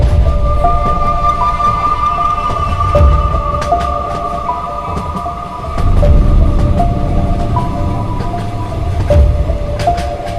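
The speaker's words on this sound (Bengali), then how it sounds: "আমি একটা ট্রেনের হুইসেল শুনতে পাই, আর সঙ্গে সঙ্গে ট্রেন এসে পড়েছে স্টেশনে।" A cartoon train pulls into a station on a stormy nor'wester night: a steady rolling rumble with rhythmic wheel clicks and a sustained whistle-like tone running through, loud and close throughout.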